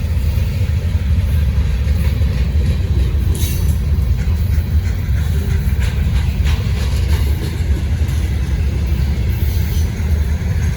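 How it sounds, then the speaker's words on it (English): A long Norfolk Southern intermodal freight train rolls past on the Charlotte District, a steady heavy low rumble with faint metallic ticks and squeals over it, continuous and unbroken. "it's gonna be the longest intermodal train I've probably seen"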